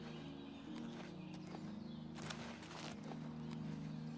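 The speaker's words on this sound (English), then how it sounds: "Paint horse." A paint horse walks in the video game Oblivion, its hooves giving faint, unevenly spaced clip-clop steps over a quiet, steady background hum.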